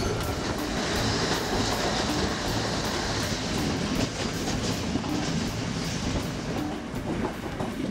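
A vintage restored passenger train in Sri Lanka rumbles steadily along the rails with a continuous low roar and faint rhythmic clatter of wheels over track joints, no voices.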